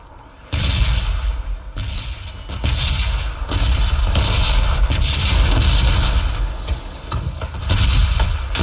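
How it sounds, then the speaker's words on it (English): Loud, dense gunfire and booming explosions from PUBG in a free-to-play tournament match, with rapid overlapping shots and blasts continuing almost without pause. "Running straight through gunfire and explosions."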